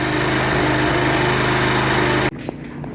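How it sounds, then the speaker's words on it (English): A Murray riding lawn mower engine runs loud and close after being restarted, with a steady droning rumble that abruptly drops away near the end. "so the mower did start up again"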